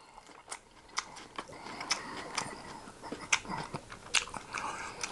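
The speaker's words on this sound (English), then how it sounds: "Hold on, I'm tired of chewing." Someone eats a big lettuce wrap up close, with loud, crunchy bites and wet chewing coming in irregular bursts, and no talking.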